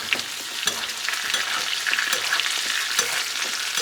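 Chilean seabass sizzles in a tilted pan as hot fat is spooned over it, a continuous crackling hiss with light clinks of basting, close and alone.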